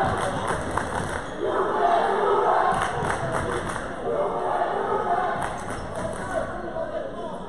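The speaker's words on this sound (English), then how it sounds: "Lively crowd tonight." Lively crowd noise fills an indoor college men's basketball gym, with steady cheering and shouts, scattered thumps and ball bounces, and voices talking over the din.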